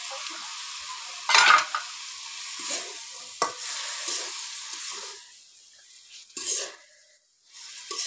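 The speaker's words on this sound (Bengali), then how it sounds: "এবার একটু ভেজে নেব।" Small mourala fish fry in oil with spices while being stirred: a soft, uneven sizzle with bursts of louder spatter and clattering utensil scrapes against the pan, close by.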